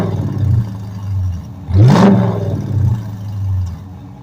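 Dodge Challenger with its rear muffler deleted, idling with a deep rumble, then one sharp loud rev that swells and falls back to a burbling idle, heard close.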